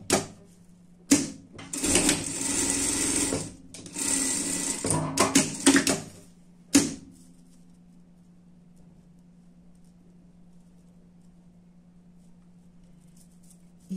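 A sewing machine runs a seam down the middle of a dress panel, wrong side to wrong side, in several loud, close bursts of rapid stitching over about seven seconds, then stops and leaves only a low, steady hum.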